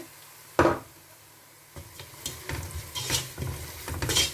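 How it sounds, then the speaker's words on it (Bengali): Spices hitting hot oil in a home kitchen pan after browned onions, with a sudden loud sizzle at the start, then bursts of frying crackle and stirring scrapes. "যেহেতু তেলের মধ্যে মশলাটা দিলাম সেহেতু তেমন আর বেশি ভাজবো না"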